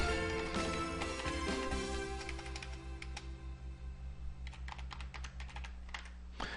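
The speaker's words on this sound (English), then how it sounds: "we're going to type in the word responsive" Rapid typing on a computer keyboard as a search word is entered, with quick uneven clicks close up over a steady low hum, a brief pause, then a final burst of keystrokes.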